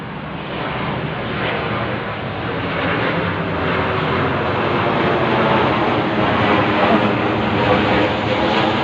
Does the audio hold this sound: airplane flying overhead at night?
yes